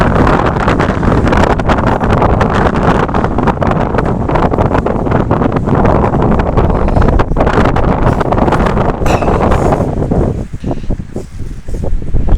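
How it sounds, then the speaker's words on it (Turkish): Strong wind batters the microphone outdoors in rainy weather near a village, a loud continuous roaring rumble with gusty buffets that eases slightly near the end. "Şu an çok aşırı bir rüzgar var"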